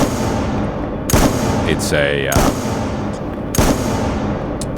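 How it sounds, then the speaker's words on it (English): Gunshot sound effects fire in a Godot game demo running Wwise audio: three sharp, loud shots spaced about a second apart, with a person talking over them and steady room ambience underneath. "gunshot sound playing"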